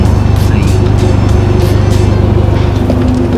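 A Ford Focus MK4 with an Akrapovič full-range tailpipe idling nearby, a steady, even low rumble with no revving, filling the whole stretch without change.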